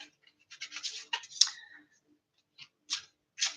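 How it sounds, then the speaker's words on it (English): Quick papery riffling bursts of a tarot deck being shuffled, a fluttering run followed by a pause and then a few shorter separate riffles, fairly quiet and close. "I am shuffling. I have pre-shuffled my deck earlier."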